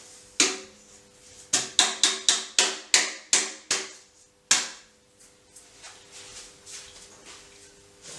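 A pan of squash pudding bar batter tapped against a counter, one knock, then a run of about eight sharp, evenly spaced raps, then a final knock, loud and close.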